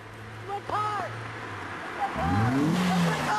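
A car pulls away with its tires squealing, rising and sliding squeals over engine noise, while voices shout over the top.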